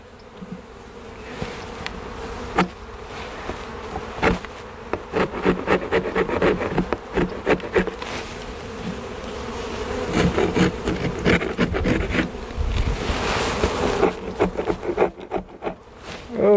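Honey bees buzz around an open beehive, a close, continuous droning hum broken by the scrapes and knocks of hive boxes and frames being handled.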